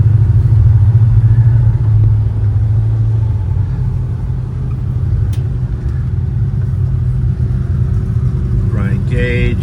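Cars rumble slowly through an intersection at a car show in Kingsburg, California, a loud low engine drone that fades slightly midway, with a brief rev near the end.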